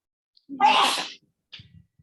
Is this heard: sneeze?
yes